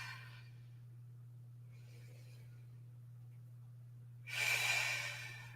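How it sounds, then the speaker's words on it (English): A slow breath during a Pilates exercise, faint and soft at first over a steady low hum, then a louder, breathy exhale near the end. "Just breathing in and out."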